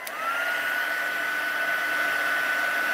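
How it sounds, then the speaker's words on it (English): A hot heat embossing tool blowing over stamped vellum, a steady close whirring fan hum with a sustained high whine that starts abruptly and runs unbroken. "Do mind your fingers, the heat tool gets very hot."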